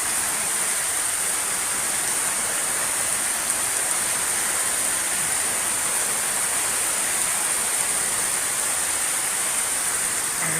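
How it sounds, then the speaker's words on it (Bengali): Heavy rain falls during a flood, a loud, continuous wash of noise that holds steady throughout with no voices. "প্রচণ্ড বৃষ্টি হচ্ছে।"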